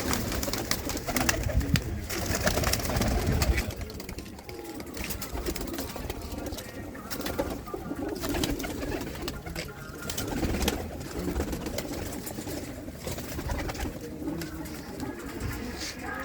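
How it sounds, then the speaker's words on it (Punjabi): Pigeons coo in low, rolling calls amid a noisy, cluttered background with faint voices now and then. "ਆ ਦੇਖੋ ਬਈ ਕਬੂਤਰੀ ਨਿੱਕੀ ਜਿਹੀ ਕਬੂਤਰੀ ਆ"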